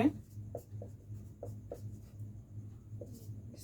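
A pen scratches across paper in short, quiet strokes with small pauses between them, close and soft, under a faint background hum.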